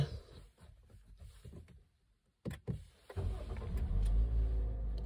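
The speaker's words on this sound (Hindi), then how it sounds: "सबसे पहले तो गाड़ी को स्टार्ट कर लेते हैं" A Toyota Corolla Altis 1.6 automatic starts up after a few soft clicks and a short quiet gap, the engine catching with a brief crank and settling into a steady low idle close by.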